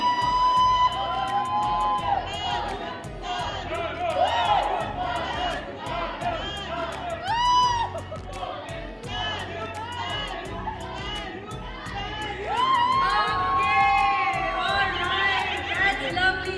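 An audience at a sangeet ceremony dance performance cheers and whoops with lively crowd chatter, shouts rising over a busy, sustained hubbub that swells toward the end.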